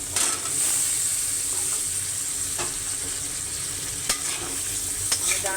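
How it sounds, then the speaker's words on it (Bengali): Shrimp frying with cut drumstick stems in a pan for a curry, a steady close sizzle under scraping stirs, with a few sharper clinks of the spoon and no talk. "ডাটা দিয়ে সুন্দর করে ঢেকে ঢেকে সুন্দর করে কষিয়ে দিই।"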